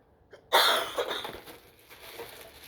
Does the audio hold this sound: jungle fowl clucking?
no